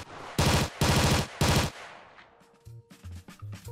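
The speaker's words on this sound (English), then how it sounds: "I'm selecting the rifle large reflection sound to show the difference between rifle small and rifle large." Three sharp rifle gunshots from the Ravenfield video game fire in quick succession, each trailing a large, roomy reflection reverb, followed by a few soft mechanical clicks.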